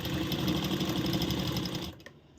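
Sewing machine running a straight stitch along a blouse neckline over pasting paper, a close, fast steady whirring hum for about two seconds that then stops abruptly.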